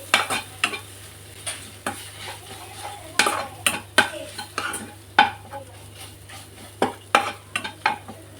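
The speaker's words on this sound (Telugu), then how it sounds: "ఇప్పుడు ఇదంతా కూడా మంచిగా కలిసేటట్టుగా 1 నిమిషం పాటు ఫ్రై చేసుకోవాలి." Andhra-style spicy chicken fry is stirred in a pan, with a low sizzle underneath and repeated sharp scrapes and knocks of the spatula at an uneven pace.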